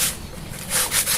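Sandpaper rubbed by hand over a surface, a close, raspy scraping of steady strokes with a few louder swipes near the end, heard alone.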